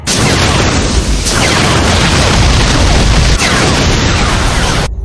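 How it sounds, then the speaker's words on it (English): Main cannons firing during an anime space battle, heavy booming blasts in a loud continuous barrage with swelling bursts, filling the whole stretch before cutting off abruptly. "Fire main cannons!"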